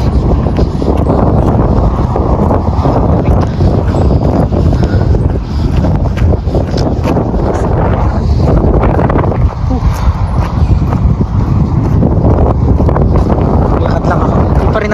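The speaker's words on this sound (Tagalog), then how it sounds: "Lakas ang hangin" Strong wind buffets an outdoor microphone in Canada, a loud, continuous low rumble with gusting surges that stays steady and dense throughout.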